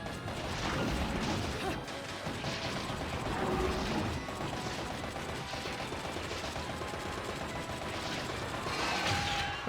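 Gunfire and mechanical clatter in the action video game Bayonetta, rapid bursts of shots mixed with metallic crashes and ratcheting noises during a fight against giant magical stingrays, fairly busy and continuous.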